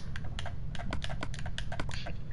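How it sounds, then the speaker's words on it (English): Fingers tap out quick, irregular bursts of keystrokes on a computer keyboard, close and clear, with short pauses between clusters of clicks. "You're using your mouse and keyboard."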